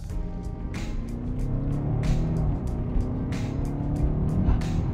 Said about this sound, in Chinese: 我们就来听一下这个 V8 的引擎声浪。